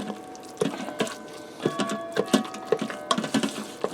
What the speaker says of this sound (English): I'm using a plastic masher because this is a non-stick pot